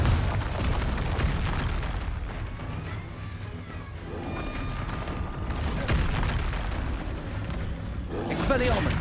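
Confringo spell explosions in Hogwarts Legacy, booming blasts and bursts amid rumbling combat noise, with a voice speaking over the fighting.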